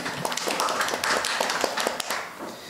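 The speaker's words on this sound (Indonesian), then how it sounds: "Mohon tepuk tangan untuk Ibu Titi" Audience clapping at an Indonesian women's creative economy empowerment event, a moderately loud steady patter of hands lasting a few seconds with no talk over it.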